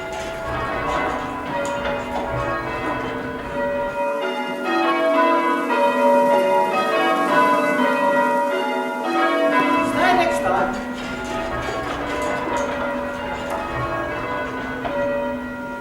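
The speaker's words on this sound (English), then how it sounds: "Once the bells are up, it's a blast of simple rounds to start." Church tower bells ring simple rounds, a steady cascade of overlapping metallic strikes in even sequence, loud and sustained for the whole stretch with faint voices underneath.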